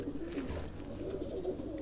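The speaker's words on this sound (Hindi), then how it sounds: "ये भी सियालकोट की बड़ी मशहूर जमाना ब्रीड रही है बैंक वाले कबूतर।" Sialkot bank-wale breed pigeons coo softly in low, repeated rolling calls, close by with faint background noise.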